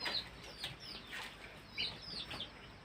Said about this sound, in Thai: ผมพามาดูไก่ที่บ้านผมนะ ไก่ต่อนะ